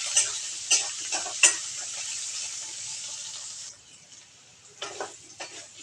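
Potatoes and dried shrimp with turmeric and salt fry in a pan, a bright hissing sizzle broken by a few scraping stirs, easing quieter for a moment before more stirring, near and without talk.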